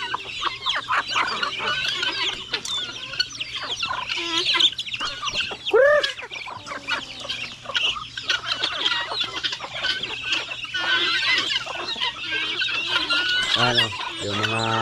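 Farm chickens, including roosters, cluck and squawk repeatedly at close range, with scattered calls over a steady low hum and a louder crow-like burst near the end.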